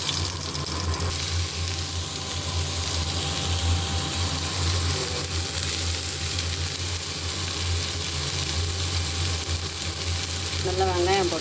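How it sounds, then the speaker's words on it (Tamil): Finely chopped onions frying in oil in a pan, a steady loud sizzle with occasional stirring scrapes running throughout, and a short trickle of water near the end. "நல்லா வெங்காயம் போட்டு நல்லா வதக்கிக்கோங்க"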